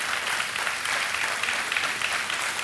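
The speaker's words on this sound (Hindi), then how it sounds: "विनीता जैन के लिए तालियां बजती रहनी चाहिए" Thick, continuous applause from a studio audience on the TV game show Kaun Banega Crorepati, loud and steady with no voices over it.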